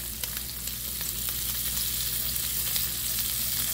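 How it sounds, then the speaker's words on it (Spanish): Chiles frying in hot oil in a pan for purslane with bits of pork chop, giving a steady, close, even sizzle throughout with faint crackles and no talking. "ya es tiempo de que le ponga el aceite para empezar a ponerle la cebolla y los chiles"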